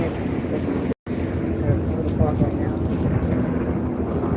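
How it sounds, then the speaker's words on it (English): Helicopters circle overhead in the Bronx, making a steady low rumble that carries under a person speaking outdoors. "the helicopters, they're flying right over our heads."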